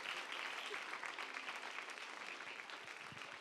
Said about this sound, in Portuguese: Vamos aplaudir bem forte também os nossos atores.